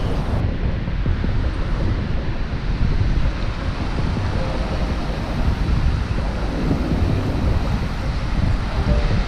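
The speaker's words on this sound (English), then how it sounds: "This is where the river meets the sea." Sea waves roll and wash continuously where a river meets the sea at Big Bay beach in Trinidad, a loud, steady roar of surf mixed with wind rumble and no voices.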